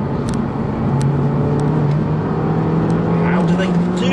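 A Honda Civic Type R hot hatch pulls under power on a bumpy road, its steady engine drone climbing gradually in pitch as it accelerates, heard from inside the cabin.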